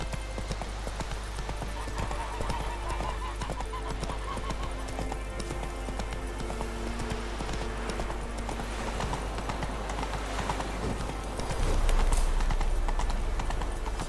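Roach, the horse in The Witcher 3, gallops with a steady rapid clip-clop of hooves over a continuous game soundscape, rising briefly louder near the end; no one speaks.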